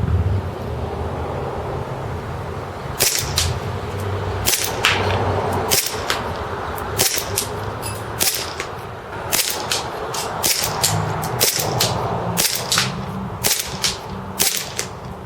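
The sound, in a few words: WE Black Lagoon M9 gas blowback airsoft pistol firing 0.2 gram BBs on propane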